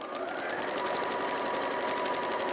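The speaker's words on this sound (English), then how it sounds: "I'm just going to sew one seam of this brim" A sewing machine runs along one seam of a fabric sun hat brim, a close, continuous whirring hum with fast, even needle pulses throughout, loud and steady with no voices.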